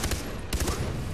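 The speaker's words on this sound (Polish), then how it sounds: "Pięknie, strzał w głowę." Gunfire in the video game Far Cry 3 during a headshot, heard as a quick loud burst of two close, sharp shots.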